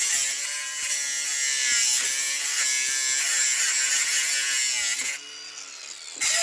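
A cordless power tool with a low battery cuts bolts for a garden sculpture, making a steady high-pitched whine and grind that stays loud throughout and then shifts in tone near the end.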